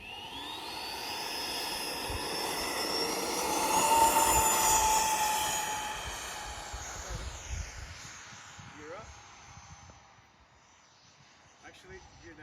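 A Freewing F/A-18C Hornet RC jet takes off with no flaps, its turbine-like whine swelling to a loud peak as it passes close by, then thinning and fading into the distance.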